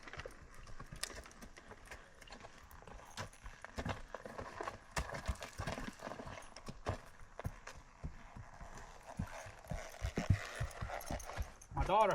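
A horse being worked in training gives off irregular, fairly faint hoof clip-clops and thuds scattered across the stretch, with a person talking intermittently over them.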